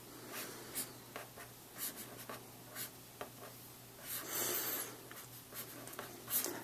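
A pen or marker writing out a binomial probability formula, scratching in short strokes and taps at close range over a low steady hum, with no talk.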